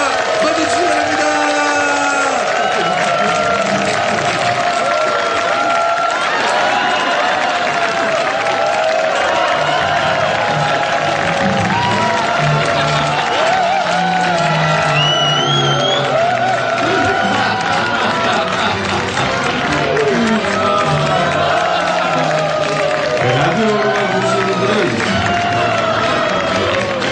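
Studio audience applauding and cheering to welcome two guests, lawmakers Kim Seong-tae and Ahn Min-seok, at a Korean radio show's year-end special; a steady crowd wash with whoops runs under the hosts' talk the whole time.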